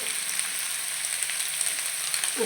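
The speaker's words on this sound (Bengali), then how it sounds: "সামান্য একটু লবণ দিয়ে সোয়াবিন আর আলুটাকে আমি ভালো করে কষিয়ে নেব" Boiled soybean chunks and cut potatoes frying with turmeric and salt in a pan, a steady bright sizzle with faint crackles, close and continuous with no voices.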